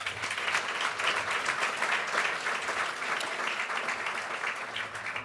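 A large audience at the 2017 Rising Stars Awards celebration night applauds the year's entrants, dense sustained clapping at a steady level across the whole stretch.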